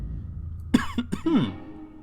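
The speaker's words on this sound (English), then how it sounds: "Sorry for the coughing." A man coughs close to the microphone during a Magic: The Gathering Pauper game, with a short burst of about three or four harsh coughs followed by a raspy throat clear, set against a quiet room.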